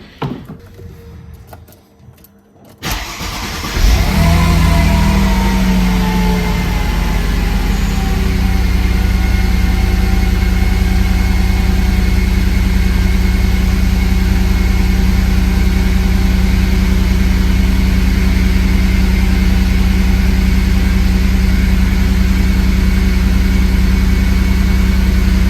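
A Mercedes C32 AMG with a Stage 2 ECU tune cranks and fires up, then settles into a loud, steady idle that runs for over twenty seconds close by, with no talking.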